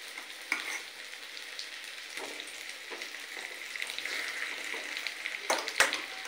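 Fish pieces added to onions frying in a pan give a soft, steady sizzle with light stirring scrapes and a sharper clatter near the end.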